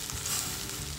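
Washed poha tipped into a hot pan for a sweet-and-sour poha, giving a brief, steady hiss of sizzling.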